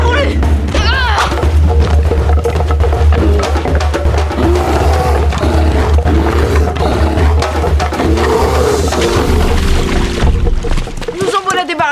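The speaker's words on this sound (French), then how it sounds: "Oh! Un ours!" A cartoon bear roars in an animated children's series, a loud, sustained growl with thumps and music around it, amid character shouts.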